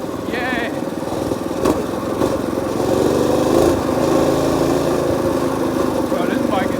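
Small mini bike engine buzzing hard at wide open throttle during a ride, a loud continuous raspy drone that swells midway, close up, with voices mixed in.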